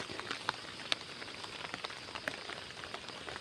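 Steady rain patters on a surface with scattered sharper drips, a soft continuous wash of drops that keeps going without any voices.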